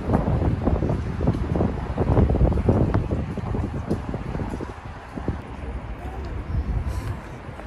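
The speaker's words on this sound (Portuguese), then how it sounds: "pensa num vento gelado, moleque." Cold wind buffets a handheld microphone outdoors on a trip in Chile, a continuous rough rumble and hiss that rises and falls over several seconds with no clear speech.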